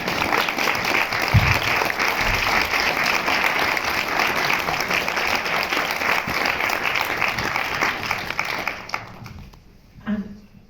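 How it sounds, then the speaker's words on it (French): An audience applauds to welcome the film director Cédric Klapisch at a presentation of Fellini's Nights of Cabiria, a dense, steady burst of clapping lasting about nine seconds before it fades and stops. "Applaudissements."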